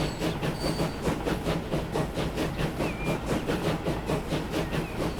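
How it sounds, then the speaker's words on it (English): A branch line train arriving in Transport Fever 2 rolls with a steady, rhythmic clickety-clack of wheels over rail joints and a constant rumbling hiss, moderately loud with no voices. "the branch line train from Attleborough has also just arrived"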